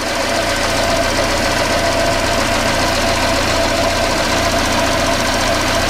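A Volvo 480 car engine running after an exhaust repair, giving a steady, continuous idle with a slight knocking texture and hiss, close and unchanging with no talking.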